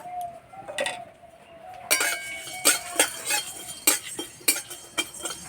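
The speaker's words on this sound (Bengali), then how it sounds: "এবার গোটা মশলা ভেজে নেব।" Whole coriander, fennel, dried chillies, cardamom, cloves and peppercorns are dry-roasted in a wok for cauliflower kachori, giving sharp, irregular clinks and scrapes of a spatula against metal, close and fairly quiet, after a faint hum at the start.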